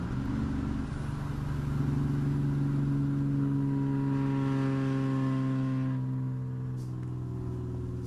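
A Cummins 6.7 diesel truck engine roars steadily at 3,000 RPM under exhaust-brake load, a sustained droning growl that eases slightly near the end.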